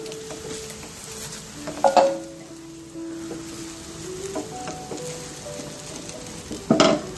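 Slices of bread fry in a pan after being flipped, with an even, gentle sizzle and a couple of sharp utensil clinks against the pan. No voices are heard.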